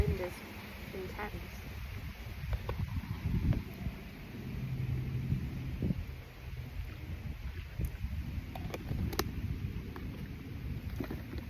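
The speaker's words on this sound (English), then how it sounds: "I hope you guys can hear me because the wind is intense" Strong wind buffets the outdoors in gusts that rise and fall, a broad low rumble running through the whole stretch, with no voices heard.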